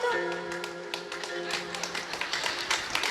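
Devotees at a kirtan clap their hands in a quick, uneven patter that builds toward the end, sitting under a voice and a sustained musical drone.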